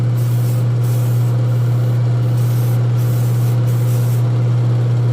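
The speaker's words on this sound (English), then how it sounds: "Test spray." Spaz Stix Extreme White spray paint hisses from an aerosol can in a steady, loud burst over a constant low motor hum, with a few brief pauses between spurts.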